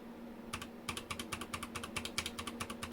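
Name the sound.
typing on Anne Pro II mechanical keyboard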